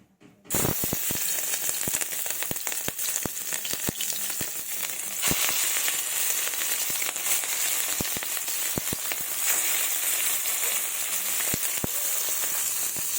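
Fish roe sizzles loudly and steadily in hot mustard oil in a wok, with dense crackling and sharp pops throughout, and no voices.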